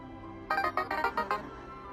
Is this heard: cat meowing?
no